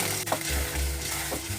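Keema with chutney is stirred in a pan, a quiet frying sizzle under low scraping thuds of the spoon, steady and close with no speech.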